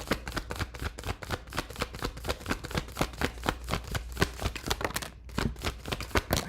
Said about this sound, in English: I think I shuffled really well.